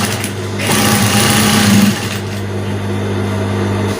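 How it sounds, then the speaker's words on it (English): An electric sewing machine stitches the side seam of a buba sleeve, a steady close mechanical whir that rises and eases slightly as it runs, alone without speech. "I'll sew the other sleeve too with 1/2 inch."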